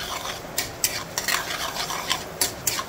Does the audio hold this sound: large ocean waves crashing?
no